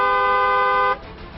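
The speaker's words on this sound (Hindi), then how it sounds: "हॉर्न बजाया जाए।" A vehicle horn sounds one steady, loud, sustained blare for about a second, then cuts off, leaving a murmur of street noise.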